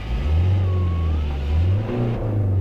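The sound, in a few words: Renault diesel car engine running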